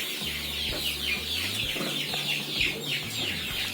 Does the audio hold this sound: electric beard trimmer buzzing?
no